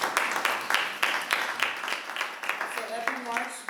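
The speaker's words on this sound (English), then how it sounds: "Let's clap her up for sharing that answer." An audience claps in a loose rhythm, a moderate spread of hand claps that continues steadily before a voice begins speaking toward the end.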